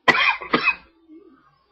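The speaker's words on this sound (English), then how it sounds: "Sorry, a winter cough." Two harsh, close coughs in quick succession, followed by a faint low rasp as the throat settles.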